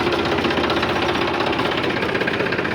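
A tractor engine runs close by with a loud, steady knocking rumble and rapid rhythmic vibration, continuous throughout with no talk.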